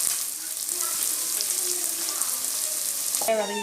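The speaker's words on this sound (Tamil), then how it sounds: "இப்போ வெங்காயம் நல்லா வதங்கிருச்சு" Steady, close sizzling of onions frying in a pan, a continuous crackle with a brief clatter near the end and no voices.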